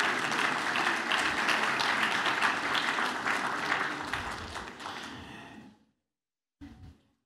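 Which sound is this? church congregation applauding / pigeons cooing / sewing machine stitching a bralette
church congregation applauding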